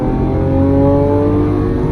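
A Lamborghini Aventador SVJ's engine pulls hard and loud up close, a continuous rising mechanical wail with strong tonal harmonics as the car accelerates, with no talking.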